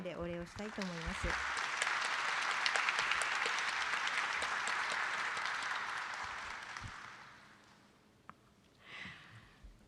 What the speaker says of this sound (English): could you please join me in giving a round of applause to our distinguished panel today?